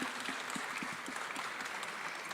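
Moderate applause from a conference audience on a main stage after speakers, soft and even, with a few distinct claps standing out.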